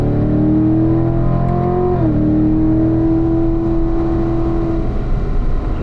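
A race car's engine pulls hard on throttle from inside the cockpit, with a loud, steady drone that climbs, drops abruptly at a shift, then climbs again in an even, rising tone.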